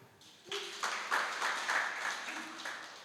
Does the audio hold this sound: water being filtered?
no